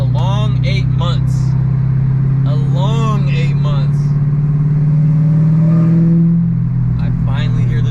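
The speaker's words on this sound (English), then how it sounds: "I finally hear the supercharger again" Supercharged Dodge Charger Hellcat swapped to a six-speed manual, its engine droning steadily throughout with a rising whine near the end, under someone talking excitedly inside the car.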